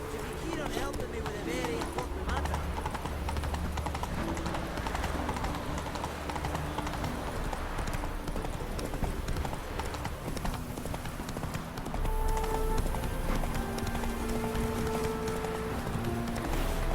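The horse Roach gallops in The Witcher 3, steady rapid hoofbeats thudding continuously throughout, close and prominent, with game ambience and some speech layered over them.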